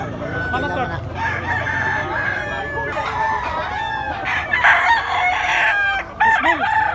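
A yellow-legged bulik stag, a young rooster, crows loudly and close by several times in a row, with a few clucks and some faint talking in the background.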